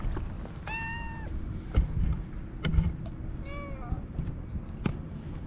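Kittens mew in short, high, wavering cries, several scattered across a few seconds over a steady low rumble of background noise and occasional knocks.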